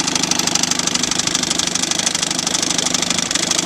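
A 1959 Johnson 3 hp outboard motor idles steadily, close and loud, with a fast, even putter and a tight rhythmic knock throughout and no voices.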